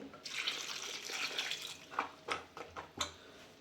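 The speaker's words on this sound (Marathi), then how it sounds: "चला आपण आता त्याच्यावर पाणी टाकू" Water poured over beans in a home kitchen, a soft running trickle followed by a few splashy gurgles and drips, faint and close.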